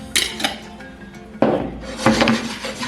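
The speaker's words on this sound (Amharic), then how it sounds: "ተልባችንን መጥበሻችን ላይ አድርገን እንቆላለን" Flaxseed being dry-roasted and stirred in a pan for a traditional Ethiopian dish, close-up clinks and scrapes of a utensil against the pan in a few uneven bursts, with the seeds rattling between strokes.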